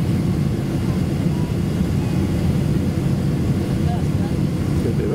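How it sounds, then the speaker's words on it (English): Inside the cabin of a Qatar Airways Boeing 777 coming in to land near Copenhagen, a loud, steady engine and airflow roar fills the space with constant low rumble. "It's going to be a very fast landing."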